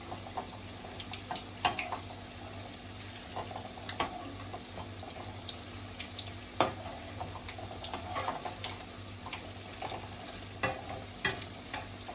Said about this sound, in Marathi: मीडियम गॅसवरती चांगली शिजवून घ्यायची आहेत तळून घ्यायची आहे चांगली